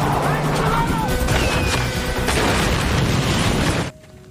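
A car hit by a rocket explodes in a loud, sustained rumbling blast with crackling debris and roaring noise that cuts off abruptly near the end.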